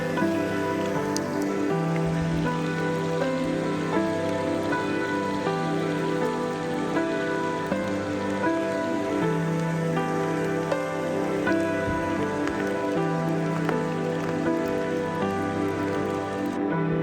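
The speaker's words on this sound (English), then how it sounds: "the rain set in just as our time was coming to an end" Steady rain falls on the water of Doubtful Sound in New Zealand during a kayak trip, a dense, even patter that continues without a break throughout, with no voices.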